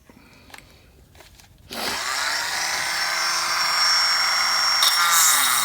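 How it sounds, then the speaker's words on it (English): A small power drill boring holes in a detail part for a DJH 2MT 2-6-0 model locomotive tender starts suddenly after quiet handling noises, then whirs steadily and close, rising slightly in pitch toward the end. "I just drill out one or the other of the holes, not both of them, otherwise the part won't fit properly."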